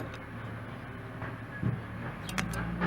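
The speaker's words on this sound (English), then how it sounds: "it's the rubbish bin being emptied, the wheelie bin being emptied." Garbage truck emptying a wheelie bin on the street on a Thursday morning: a steady distant mechanical rumble with a few clanks and a brief hiss or scrape near the end, moderately loud and continuous.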